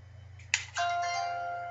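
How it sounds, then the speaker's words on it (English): A short electronic phone ring: a brief chime and then a steady bright tone that holds, fairly faint, with a low hum underneath and no talking. "Oh. Yeah, that was my phone."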